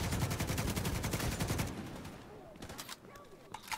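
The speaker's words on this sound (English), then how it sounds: "This gun's amazing, my friends. This RPK." An RPK light machine gun in The Division 2 shooter rattles out a rapid sustained burst of loud shots, then breaks off into scattered distant gunfire and faint game effects.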